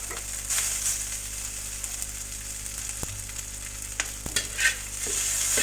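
Village-style fried rice being stirred in a pan, a steady hiss of frying with occasional scraping knocks and clinks of the utensil, moderately quiet and with no talking.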